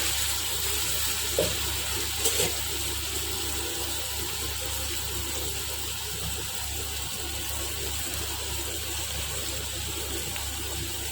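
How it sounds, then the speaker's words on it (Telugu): Ginger garlic paste frying in hot oil gives a faint, even sizzle that holds steady throughout, with a low hum underneath and a couple of soft knocks near the start. "ఇది కొంచెం ఫ్రై అవ్వనివ్వాలి, పచ్చివాసన పోవాలి"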